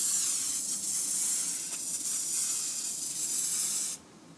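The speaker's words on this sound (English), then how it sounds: "Why don't we go ahead and spray a little bit more foam here on the side of it" A foam sprayer with an adjusted needle valve sprays thick foam in a steady, loud hiss, running continuously for about four seconds, then cuts off abruptly, leaving faint background noise.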